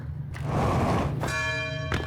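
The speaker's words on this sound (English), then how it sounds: "we can ring the bell with our head" A bell in the video game Outer Wilds, rung by headbutting it: a dull thud, then a bright ringing tone with long shimmering overtones, a second knock near the end, close and loud.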